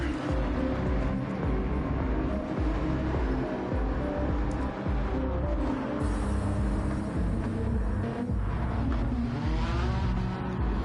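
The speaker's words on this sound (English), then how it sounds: "that Chevy Corvette American Muscle GT3 race car" A Chevrolet Corvette GT3 race car roars in a Gran Turismo 7 Gr.3 race at Circuit de Spa, its engine droning loudly and continuously alongside other racing cars, with no voices heard.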